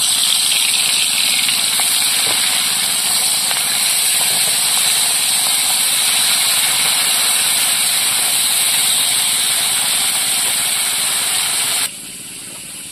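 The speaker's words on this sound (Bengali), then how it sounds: "এবার মাছগুলো ভেজে নেব।" Pankhagi fish fry in hot oil with a loud, continuous sizzling hiss that stays steady up close, then drops abruptly to a quieter sizzle at the very end.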